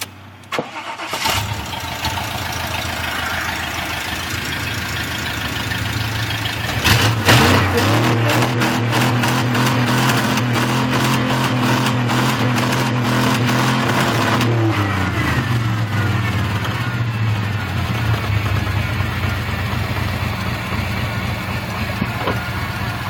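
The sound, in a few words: truck engine revving to the redline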